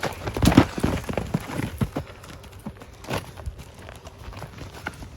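A horse's hooves clip-clop close by in an uneven walking rhythm, louder at first and then lighter, in an old-western standoff scene.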